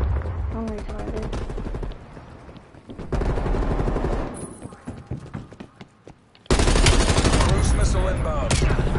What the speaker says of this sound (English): Oh, that was a machine gun.